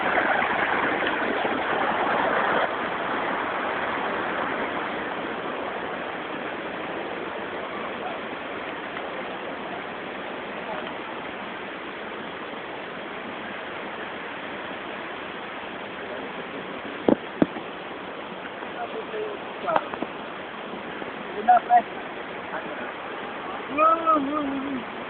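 Flowing water at Majayjay, a steady broad rushing wash that fills the whole scene, with occasional faint voices and a few sharp knocks near the end.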